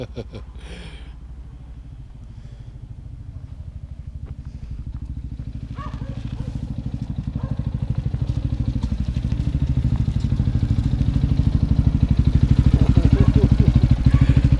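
A 2024 Lifan K-19 motorcycle with luggage cases putters nearby and grows steadily louder as it approaches, its rumbling idle building to a close, loud chug.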